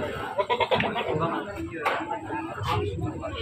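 Goats at an open livestock market in Kebumen, Central Java bleat in short repeated calls amid a busy, noisy crowd, with people talking throughout.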